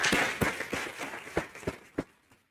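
A small meeting audience at a city climate action plan gathering gives a short burst of applause, dense clapping at first that thins into a few scattered, separate claps before dying out.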